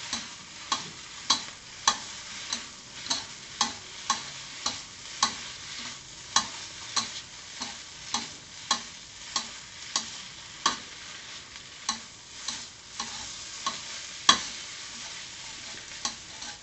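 Mama instant noodles are stir-fried in a pan, with about twenty regular scraping strokes of the spatula over a quiet, steady sizzle.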